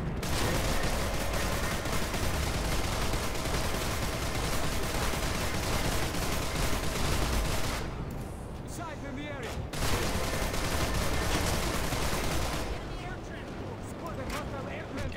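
Sustained rapid gunfire from a Liberator gunship's tailgun in Planetside 2, loud and dense with a couple of short pauses, while a player talks over it.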